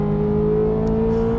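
Corvette Z06 5.5-liter flat-plane-crank V8 holding a loud, steady high-pitched drone at high revs, close and continuous with no talk over it.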